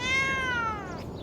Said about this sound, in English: we are on the street with a cat